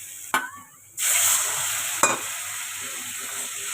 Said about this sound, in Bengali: ভালো করে মশলাটা কষাবো যতক্ষণ না তেল ছাড়ে।